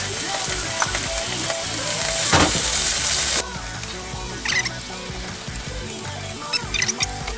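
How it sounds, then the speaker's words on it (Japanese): Spinach stir-fried in a frying pan with olive oil and tube garlic, a steady close sizzle and crackle of frying with occasional scrape and stir sounds, louder in a brief burst near the middle before settling. "ほうれん草炒めていきたいと思います"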